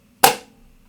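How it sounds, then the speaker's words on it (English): A single sharp, bright snare flam played too narrow, with a quick decay, close and loud, the grace note nearly merged into the main stroke. "Now, the opposite side of that is playing flams that are too narrow."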